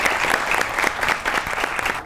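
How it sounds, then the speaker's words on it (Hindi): Studio audience at a Pakistani comedy show applauding for guest Agha Majid, a sustained, even roar of clapping from a sizeable crowd with no voices over it. "बहुत सी तालियां होनी चाहिए आगा माजिद के लिए"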